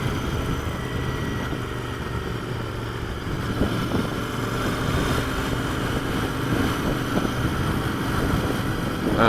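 A Royal Enfield Interceptor 650 motorcycle pulls away, its engine a steady, moderately loud drone that rises slightly partway through, with heavy wind buffeting the microphone throughout.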